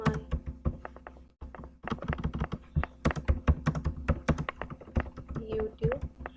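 Rapid clicking keystrokes on a computer keyboard, close and crisp, typed in quick bursts with a short pause early on and heavier thunks from larger keys.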